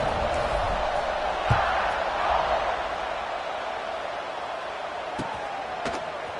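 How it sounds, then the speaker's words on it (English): Football stadium crowd at an NCAA game just before kickoff, a steady broad roar of many voices filling the space, with a few sharp thumps and clicks standing out above the din. "They're set to kick it off, and this crowd now ready to get behind them."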